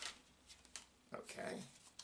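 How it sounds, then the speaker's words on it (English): Tarot cards shuffled by hand at a table, a few soft riffling and sliding bursts, close and quiet, with brief faint talk in between. "I'm shuffling the cards"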